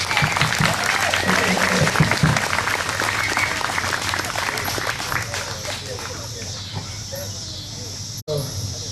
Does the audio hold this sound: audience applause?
yes